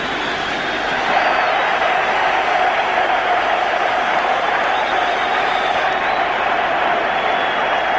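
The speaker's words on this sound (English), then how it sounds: "Tommy Smith sends the Liverpool crowd into total delight." Liverpool supporters roaring after a goal at the 1977 European Cup Final against Borussia Mönchengladbach, a loud sustained stadium cheer rising just after the start and holding steady without a break.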